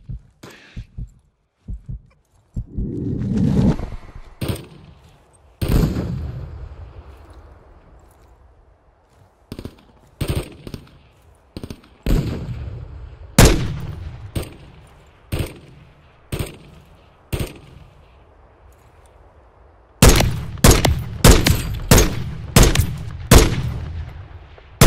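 Gunfire in a Call of Duty: Modern Warfare 3 campaign mission, night fighting in Verdansk: sharp loud shots in scattered single cracks and short bursts, with a dense rapid volley near the end.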